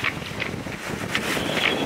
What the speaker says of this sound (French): Ça pleut, ça vente.